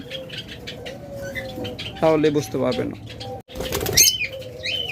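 Caged lovebirds and other pet birds for sale chirp and coo in bright, overlapping calls, with a brief flutter of wings, while someone talks close by.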